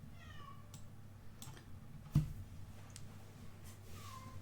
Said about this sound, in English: I got to let the cat in.